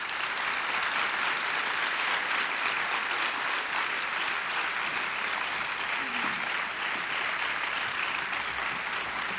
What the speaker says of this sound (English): Let's give them a strong round of applause